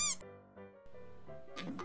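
A short, high meow at the start, followed by faint squeaky tones and a burst of noisy rustle at the end.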